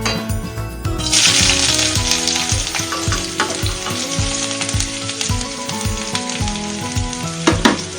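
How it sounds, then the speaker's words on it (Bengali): Chopped capsicum fries in hot ghee over high flame for fried rice, a loud, crackling sizzle that surges as the pieces hit the pan, with scattered metallic scrapes and clinks of a spatula against the vessel. "ফ্রাইড রাইসের সব সবজিগুলো এবং পেঁয়াজ আদা সবই কিন্তু ঘিয়ের মধ্যে ভাজতে হবে। ক্যাপসিকাম ভেজে নিই।"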